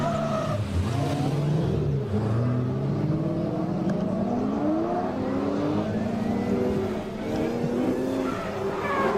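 Two drift cars, one a BMW, launch on a run at a Pure Drift event in the 2023 season, engines revving loud and close with rising pitch sweeps and squealing tires. No one speaks.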